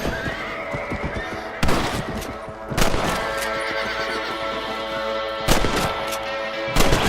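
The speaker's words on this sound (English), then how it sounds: "Better at shooting rabbits than outlaws, I see." Rifle shots ring out while hunting rabbits from horseback in the Red Dead Redemption video game: four sharp, loud cracks spaced a second or more apart, over a steady outdoor ambience with horse whinnies and hoof sounds.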